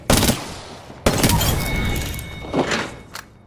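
Gunfire from the Apex Legends video game sounds as loud bursts of shots, one at the start, another about a second in and a third later, each decaying into sharp crackling echoes.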